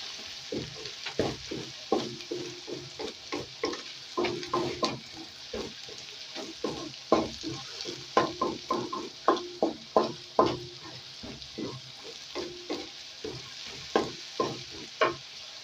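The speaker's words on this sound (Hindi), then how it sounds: "प्याज को हम मीडियम टू स्लो फ्लेम पे जो है लाइट ब्राउन कर लेंगे।" Onions and minced meat fry in a pan over a medium-low flame with steady sizzling, and a spatula repeatedly scrapes and clinks against the metal throughout, close up and fairly loud, no talking.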